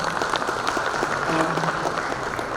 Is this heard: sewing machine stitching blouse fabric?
no